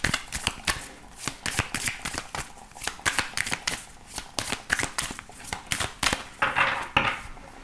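Oracle cards being shuffled for a tarot reading, a steady run of quick papery riffles and slaps close up that go on throughout with no talking.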